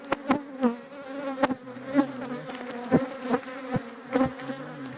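Bees buzz close by, several droning tones circling and swelling in short bursts, loud and busy with no talking.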